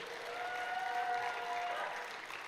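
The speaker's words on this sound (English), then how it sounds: "Let's have another round of applause for Mark." An audience gives a warm round of applause for the performer Mark, a continuous wash of clapping at moderate volume that swells slightly mid-way and then eases off.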